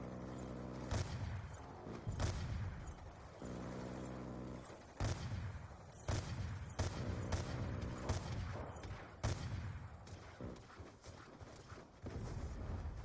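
A rocket fire support strike in a military video game, with a string of heavy booming blasts and rumbling impacts at irregular intervals over a loud, continuous battlefield din, close and dense, with no voices.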